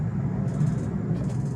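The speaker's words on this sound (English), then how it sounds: "I apologize for any traffic noise." Low, steady rumble of road traffic in the background, with a faint higher whoosh of passing vehicles now and then.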